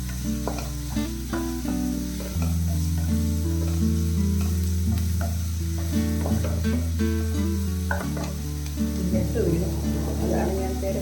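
Two red and two green chillies fry in hot oil for mushroom masala, making a dense, steady sizzle close by, broken by occasional stirring clatter and crackle, with a low tonal hum running underneath throughout.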